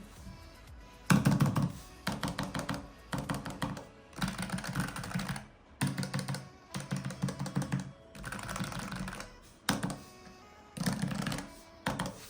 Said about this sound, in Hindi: तो ये कीबोर्ड को इस तरीके से साउंड करता है।